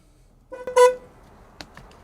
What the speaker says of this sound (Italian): colpo di clacson